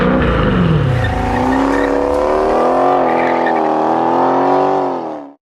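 A Dodge Challenger Scat Pack V8 engine revs loudly and close, a sustained rising then steady roar that cuts off sharply at the end, no talk.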